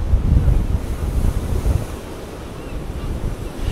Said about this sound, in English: Wibble wobble as the wind blows.